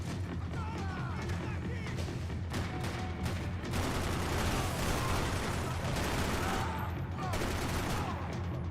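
Dense, continuous video game gunfire from the Max Payne shooter, with overlapping pistol and automatic shots, impacts and crashes forming a loud, busy battle soundtrack throughout, with faint voices mixed in.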